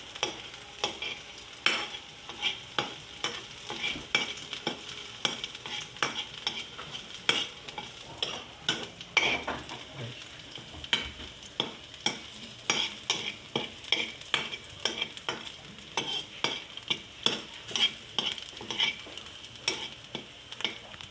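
Chicken liver and gizzards frying in a pan for adobo, a steady sizzle broken by repeated rhythmic scrapes and clacks of stirring throughout.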